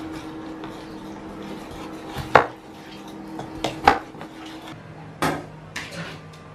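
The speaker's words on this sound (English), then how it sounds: "So right now we're chopping up onion." A knife chops onion on a board in a home kitchen, with a few sharp, uneven chops and knocks against a steady background hum.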